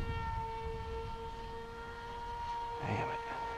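An RC flying wing's electric motor at higher throttle gives a steady high-pitched whine with sustained tonal notes, heard from a distance under wind noise, with a voice briefly near the end.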